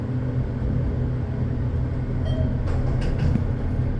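A ThyssenKrupp scenic elevator in Sarasota, Florida rumbles on its way down, a steady low, heavy drone heard from inside the car with a few faint clicks and creaks near the end.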